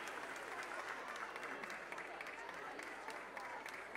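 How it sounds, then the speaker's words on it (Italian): Audience at an ice skating gala in Covo applauding young skaters, a continuous, fairly distant and faint wash of clapping from a crowd in an ice rink. "ancora un grande applauso."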